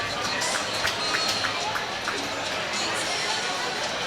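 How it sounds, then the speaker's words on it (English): A loud crowd roars steadily in an arena at a boys' high school hockey section final between Edina and Wayzata, a dense constant wall of cheering and chatter with a voice talking over it. "This crowd here is really loud"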